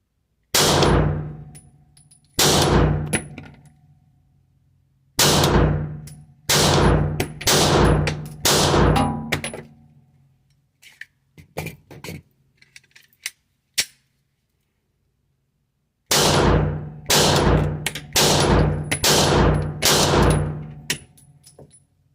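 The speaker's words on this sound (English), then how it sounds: "we're gonna shoot the Glock 43 now" Glock 43 pistol fired at an indoor range: sharp, loud shots in rapid strings and quick bursts with short pauses between, each crack ringing with a metallic clang, a long lull midway before another fast volley.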